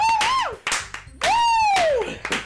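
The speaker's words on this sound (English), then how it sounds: "I'm the first to start applauding." A few claps ring out in the visual novel Doki Doki Literature Club, broken up by a loud whooping voice cheering between them.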